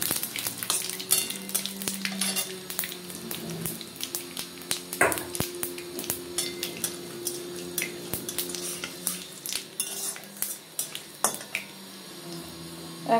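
Panch phoron and cumin seeds temper in hot frying oil, a busy crackling sizzle close up, broken by repeated clinks and scrapes of a spoon stirring against the pan.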